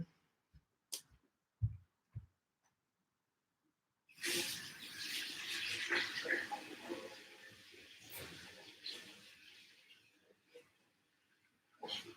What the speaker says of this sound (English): Let me just wash my hands so I can wrap my hair.